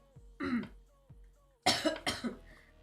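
Several separate coughs close to the microphone from a person who is sick: two short ones, then a stronger burst of two or three harsh coughs.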